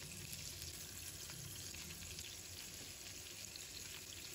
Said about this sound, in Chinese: 再将它翻过来煎另一面，把所有的苦瓜煎至两面金黄